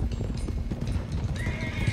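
Horses trot along in Red Dead Redemption 2, a steady run of hoofbeats with soft snorting, while a high whinny rises near the end. It is close and busy, and nobody speaks.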